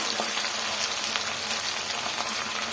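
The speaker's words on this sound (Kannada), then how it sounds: "ಎರಡು ಮೀಡಿಯಮ್ ಸೈಜ್ ಟೊಮೆಟೊನ ಸೇರಿಸ್ಕೊತಾ ಇದ್ದೀನಿ ಚೆನ್ನಾಗಿ ಫ್ರೈ ಮಾಡ್ಕೊಳ್ಳೋಣ" Two medium tomatoes fry in a hot pan while bisibele bath is cooked, giving a steady, close sizzle that stays even throughout with no voices.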